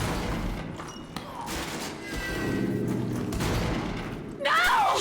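Gunfire from the shooter game The Division comes in scattered thumps and cracks beneath talk, ending in a louder, sharper burst of shots.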